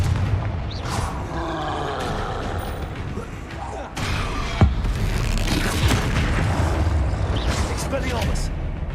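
A Confringo blasting spell goes off in the Hogwarts Legacy video game amid a troll fight, a deep boom and crackling roar set in dense, continuous game noise, with a sharper blast near the middle and talk running over it.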